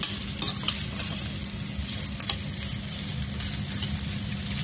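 Fried rice with dried fish being stir-fried in a pan, a loud, continuous close sizzle and frying hiss with scraping stirs running through, no speech.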